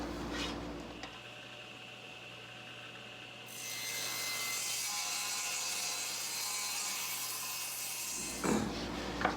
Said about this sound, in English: set up the fence to be 14 1/4 inches away from the blade, and we'll cut down this side